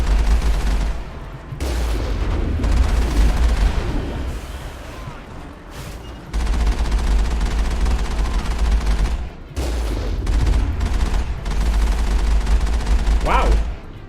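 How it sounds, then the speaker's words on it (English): The Mako vehicle's guns in Mass Effect fire heavy booming bursts with deep rumbling impacts, loud and close, broken by brief pauses between volleys. "The bullets of the Mako have a ton of impact."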